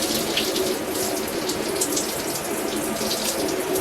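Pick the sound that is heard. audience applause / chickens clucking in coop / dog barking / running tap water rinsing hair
running tap water rinsing hair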